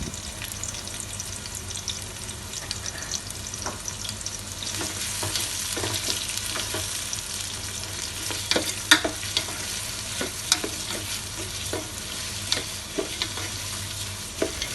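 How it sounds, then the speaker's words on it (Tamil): Five large onions sliced lengthwise sauté in hot oil for prawn biryani, giving a constant loud sizzle and crackle with intermittent spatula scrapes against the pot, no voices. "இப்போ 5 பெரிய வெங்காயத்தை நான் நீள்வாக்கில் கட் பண்ணி வச்சுருக்கேன். இப்போ அதையும் சேர்த்து நல்லா வதக்கி விட்டுக்கலாம்."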